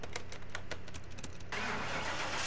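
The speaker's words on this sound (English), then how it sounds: "Let's crank her up, see what it sounds like." A Chevrolet Corvette C4 in Car Mechanic Simulator 2021 cranks with a rapid rhythmic starter chatter, then catches and settles into a steady, fairly quiet engine idle, with no one talking.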